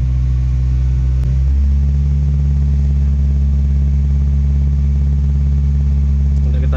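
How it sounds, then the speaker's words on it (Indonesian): A Toyota Vios petrol engine drones loud and close with a deep, steady rumble, its pitch rising slightly as the throttle is held to raise idle speed. "Ini kita bantu gas ya agar cepat mencapai dan akan menghidupkan kipasnya."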